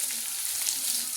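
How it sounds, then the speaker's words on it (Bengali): Chopped bottle gourd fries in hot oil in a pan, giving a steady, close, bright sizzle with no pause. "লাউটা একটু ভাজা ভাজা হয়ে গেছে, এখন মশলাটা দিয়ে দেবো।"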